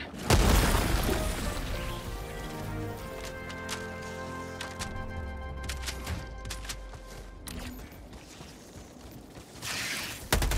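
Grenade explosion in the video game Helldivers 2, a loud deep boom at the start that decays into a long rumble under tonal game sound, with a second burst near the end.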